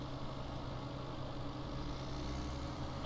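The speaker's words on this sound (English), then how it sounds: "What? I can't hear anything over my tractor." Tractor engine running steadily in Farming Simulator 17, a continuous low idling drone held throughout at moderate volume with no voices.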